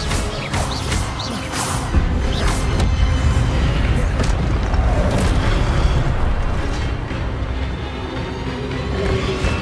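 Magic spells cast in the Hogwarts Legacy video game: a dense, continuous wash of booming, crackling blasts and whooshes, loud and layered throughout with no clear pauses.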